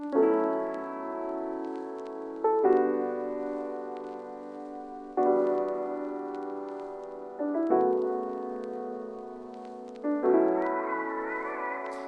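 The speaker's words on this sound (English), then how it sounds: "It's the vinyl scratching sound, and so that's kind of just to give the piano some grit" Sustained piano chords change every few seconds in a slow progression, with faint crackly specks scattered over them like an old record.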